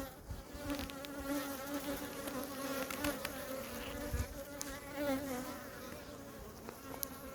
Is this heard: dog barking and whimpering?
no